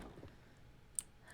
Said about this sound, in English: The interaction noise just sounds like a keyboard click